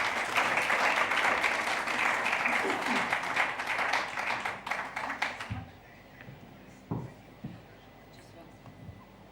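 Applause from a conference audience at a health-tech investor summit, a dense steady clatter of many hands that fades after about five seconds into scattered claps and room noise.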